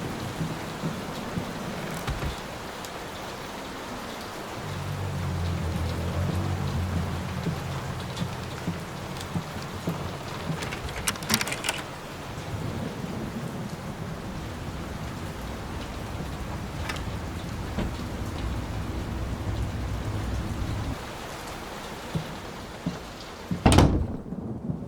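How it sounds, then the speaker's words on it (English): Steady heavy rain pours throughout a storm in a horror video game, with low rumbling thunder swelling in the middle and a sharp crack near the end. "Will this storm ever run out of rain?"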